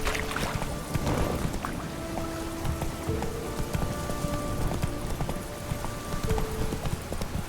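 Roach the horse gallops in The Witcher 3, with steady, rapid hoofbeats close by over soft ambient noise.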